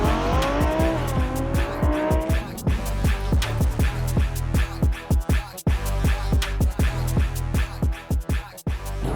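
Cars speeding recklessly and weaving on a New York highway, with loud, close engine revving, rising whines and repeated rapid gear-shift bursts throughout.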